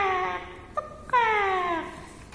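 A voice imitates a gecko's call with two drawn-out, whiny cries separated by a short pause, close and clear with no other sound.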